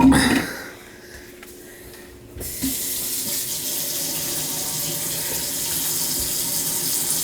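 Water from a faucet runs into a leaking kitchen sink, a loud steady hiss that starts after a brief quieter stretch with a few knocks and carries on without a break.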